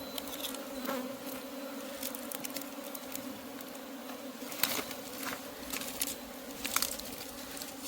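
Honey bees at a wild hive during a honey harvest in the hills, making a dense, continuous buzz of many insects close by, with scattered louder passes as individual bees fly near.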